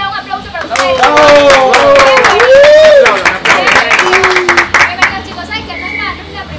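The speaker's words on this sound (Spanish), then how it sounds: "Un aplauso para ustedes." An audience applauds a band at a song launch event, sharp irregular hand claps mixed with loud voices and cheering talk close by over the clapping.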